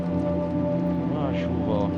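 Rain in the video game Little Nightmares II, a steady hiss of falling drops that runs without a break behind droning background music while a voice talks over it.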